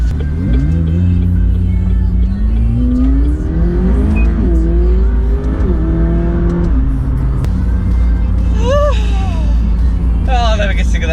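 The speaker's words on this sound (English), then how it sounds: "the acceleration of this car." A McLaren 540C sports car accelerates hard, its engine note climbing in pitch through loud, rising gear pulls, heard from close by with a brief shift and rev changes toward the end.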